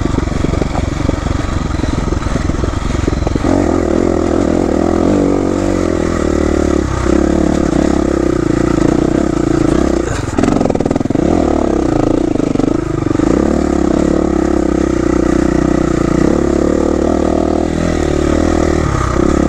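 Dual sport motorcycle descending a rocky enduro trail on Redonda Ridge, engine droning loud and close throughout with shifting revs, rattles and scrapes from the rough ground.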